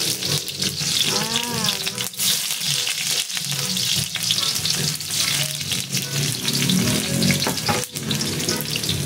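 Garlic and onion fry together in a hot pan, a loud, dense sizzle with stirring scrapes and knocks, close by, while a voice talks faintly underneath.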